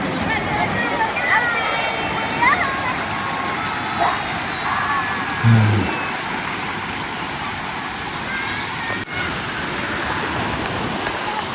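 River water flows steadily at the Sungai Kelah campsite in Sungkai, a continuous broadband rush with a faint idling engine hum in the background.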